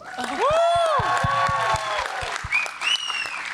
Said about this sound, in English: can we get a round of applause for Simran